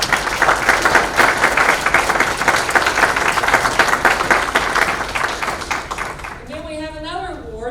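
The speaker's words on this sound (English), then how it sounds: "If we could offer a round of applause for Dutch Fork High School." At a school district superintendent's report, an audience applauds Dutch Fork High School with a thick, steady round of clapping that fades after about six seconds, when a voice begins speaking.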